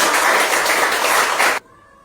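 Dense applause from a group of children at a religious lesson, loud and continuous for about a second and a half before stopping abruptly into near silence.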